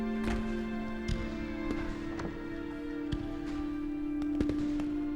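Distant fireworks in a film scene pop and crackle in scattered bursts, several sharp reports spaced irregularly over a steady tonal musical drone.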